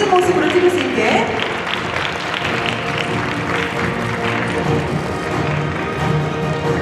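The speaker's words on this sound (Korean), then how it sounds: "우리 박수 한번 보내주시기 바랍니다." Audience clapping at the launch ceremony of a regional government union, a steady crowd applause running throughout the clip with voices mixed in underneath.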